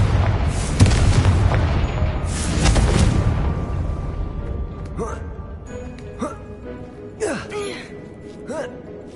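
The Confringo blasting spell explodes in Hogwarts Legacy with a loud booming blast that rumbles and fades over a few seconds, followed by lighter magical chimes and sweeps.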